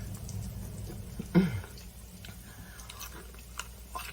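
Close-up chewing of crunchy fried potato cakes, with one distinct crisp bite and soft mouth sounds continuing quietly afterward.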